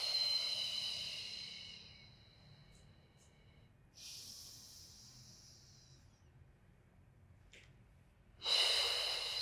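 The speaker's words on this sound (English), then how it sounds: "we exhale through the mouth, working on our diaphragmatic breath" Breath exercise with slow mouth exhales during a beginner pilates warm-up, heard as soft airy hisses, near and quiet, with a stronger burst of breath at the end and no talking.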